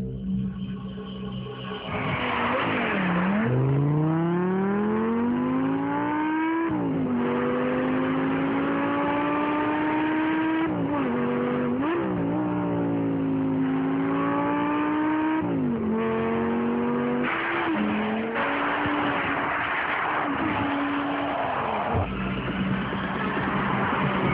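An Audi R8 V10 562 with its mid-mounted V10 engine revs hard through repeated upshifts, its loud, rasping note climbing in pitch, dropping at each gear change and climbing again over a long, continuous run of acceleration.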